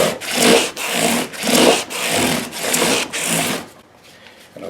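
Sandpaper wrapped on a block rubs back and forth over the frets of a Gibson SG Standard guitar in about six even, close, loud strokes, then stops, leaving near silence.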